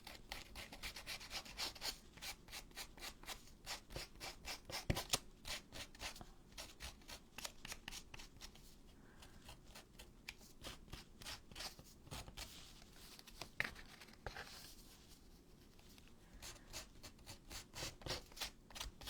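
Scissors scraping and roughing up the surface of old photos for a handmade junk journal, a quiet, steady run of rapid rubbing strokes with a few sharper scrapes along the way, no voices.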